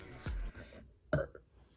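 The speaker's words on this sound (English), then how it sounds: "my god, it's making me burp." A burp after eating raisins from an MRE, heard as two short guttural bursts, the first deep and rumbling, the second sharper, close up with no talking.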